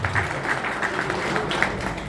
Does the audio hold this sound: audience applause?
yes